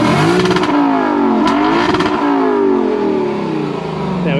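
Nissan 370Z Nismo engine revving hard and loud up close, with a rising, rasping exhaust note that holds steady with slight dips between revs.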